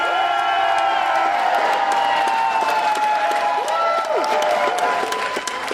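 Audience at a costume contest applauds and cheers a contestant, with continuous dense clapping and whoops that stay loud throughout and thin slightly near the end.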